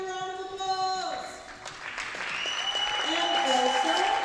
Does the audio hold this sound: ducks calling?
no